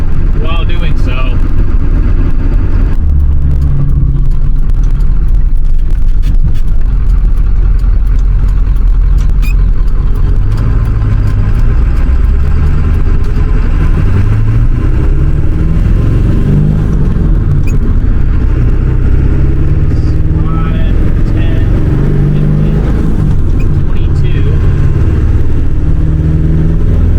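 An OBS Ford 7.3 Powerstroke diesel with a KC300X turbo and 160/30 injectors rolls into the throttle from about 1500 to 2000 RPM, a loud, close, continuous deep rumble that swells and eases with the revs.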